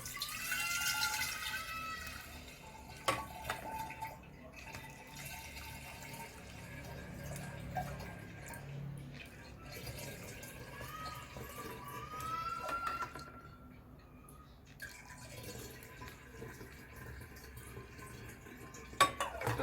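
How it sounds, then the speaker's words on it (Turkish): Homemade lemonade strained through a cezve into a pitcher, with intermittent trickling and splashing liquid and light clinks of metal against glass over about twenty seconds in a quiet kitchen, and no talking. "Şöyle bir cezve yardımıyla sürahimize süzüyoruz."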